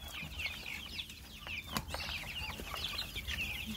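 Brahma chickens clucking and murmuring inside a coop, several birds making overlapping soft calls at a steady, moderate level with no talking.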